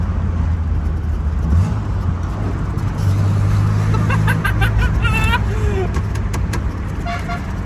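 A Lancia Beta Spider 2000 drives with a steady engine drone and shifts pitch as it changes gear, close and loud, while people talk and exclaim over the noise.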